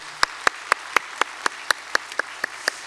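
A steady run of sharp, evenly spaced claps, about a dozen in under three seconds, as a congregation claps together in rhythm during a Korean church Sunday service.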